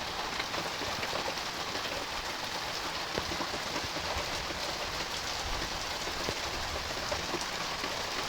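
Steady autumn rain falls outdoors, a dense, even hiss of drops on surfaces that holds without a break from start to finish, fairly soft and with no voices.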